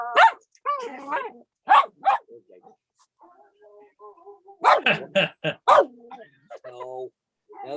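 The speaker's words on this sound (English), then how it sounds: "Got the neighbor's dog going." A neighbor's dog barks in loud, sharp bursts, a cluster near the start and a louder volley later, with whimpering yips between, while a person talks and calls out around the barking.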